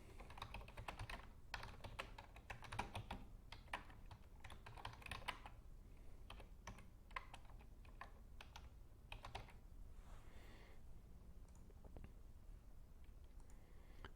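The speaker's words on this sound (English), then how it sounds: "we can type additional text about Buffy." Quiet, steady typing on a computer keyboard, with bursts of rapid key clicks early on that thin out into scattered taps, heard alone at low level.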